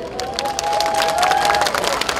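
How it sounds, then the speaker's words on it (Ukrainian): Crowd applause and cheering for a city mayor during a city day celebration, a brief burst of massed clapping with a sustained tonal sound running through the middle, sounding fairly close. "І я прошу для Олександра Левченка шалені оплески."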